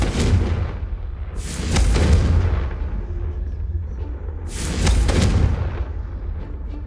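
Repeated Confringo blasting-spell explosions in Hogwarts Legacy, three loud booming bursts with crackling tails spaced about two seconds apart over a low rumbling game ambience.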